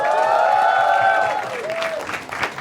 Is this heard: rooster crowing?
no